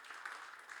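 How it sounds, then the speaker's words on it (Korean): Brief wash of applause from a high school church youth congregation cheering their choir, a soft, steady patter of many hands lasting under a second, with no voices over it. "우리 찬양대로 섬긴 우리 친구들과 또 선생님들께 우리 격려의 박수 한번 보내줄까요?"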